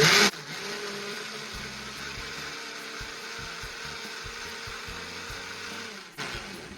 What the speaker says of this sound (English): we're just gonna blend this up. Sorry about all the loud noise